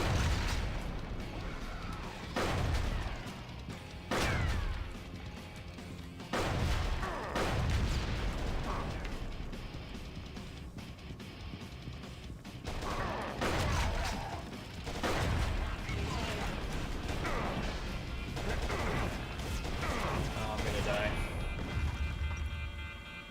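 Repeated booming shotgun blasts in a video game, heavy irregular shots spaced a few seconds apart and mixed with clattering mechanical sounds, with a voice talking over them at times.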